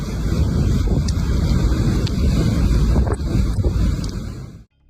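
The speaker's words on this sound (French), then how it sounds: "la violente tempête de neige qui a frappé la Sierra Nevada au printemps 2024, avec des rafales de vent atteignant 31 mètres par seconde" A violent spring snowstorm in the Sierra Nevada with wind gusts reaching 31 metres per second: a loud, continuous roar of wind buffeting the microphone, with gusts rising and falling before it cuts off abruptly.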